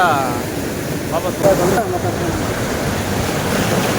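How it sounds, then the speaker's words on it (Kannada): Forceful river water at Hogenakkal Falls rushes with a dense, steady roar throughout, up close and loud, with faint voices briefly over it. "ಇಲ್ಲಿ ತುಂಬಾನೇ ಫೋರ್ಸ್ ಆಗಿದೆ ನೀರು"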